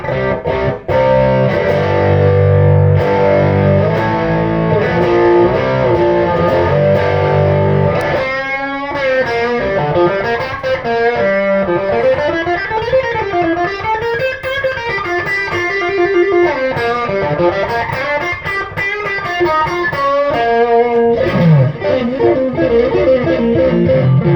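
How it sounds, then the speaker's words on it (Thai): Loud distorted PRS Fiore electric guitar plays chugging chords, then shifts to gritty melodic riffs and bends, steady and close with no voices. "เรามาเทสเสียงแตกกัน"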